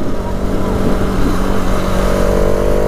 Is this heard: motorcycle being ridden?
yes